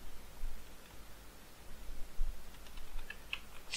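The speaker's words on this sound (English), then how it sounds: "let me just type in what it means" Fingers type on a computer keyboard, a soft, continuous patter of quiet keystrokes with no talking.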